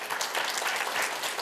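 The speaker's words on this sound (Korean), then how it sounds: "큰 박수로 우리 환영합니다." Audience applause at a panel forum as the city mayor arrives, a steady wash of many hands clapping throughout, moderately loud and unbroken with no voices over it.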